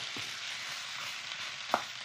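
A hot tempering sizzles steadily into a dried taro stalk curry in a pan, a constant hiss with a couple of soft scraping knocks from stirring and no talk.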